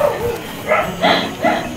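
Dogs bark three times in a row, evenly spaced and fairly loud, sounding close by with a little background noise.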